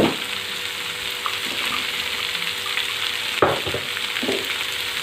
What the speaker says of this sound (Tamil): வெங்காயம் சேர்த்துட்டு நல்லா வதக்கி விட்டுக்கோங்க